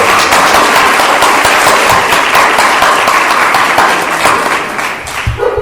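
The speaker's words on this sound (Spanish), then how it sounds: "recibamos a José Carlos Tarroba con el aplauso que se merece de bienvenida." A lecture audience gives loud, dense applause welcoming the speaker for a talk on Hispano-Muslim gardens, the clapping sustained for several seconds, then tapering off into scattered claps.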